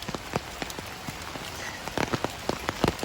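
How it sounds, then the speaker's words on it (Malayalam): Heavy rain pours steadily, a dense hiss with scattered louder drops striking a surface nearby, no voices. "ഇപ്പോൾ നല്ല മഴയാണ്,"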